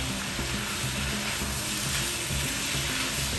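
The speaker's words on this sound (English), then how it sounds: "I'm gonna let this fry up for a few minutes before we add our sauce" Seasoned beef meat sauce for lasagna roll ups sizzles and fries in a pan, a loud, dense, continuous crackle close by with no talking.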